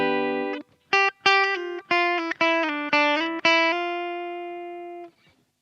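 A Jazzmaster electric guitar on its bridge pickup plays a clean tone, a series of bright plucked notes and chords with sharp attacks, the final chord left ringing and slowly fading.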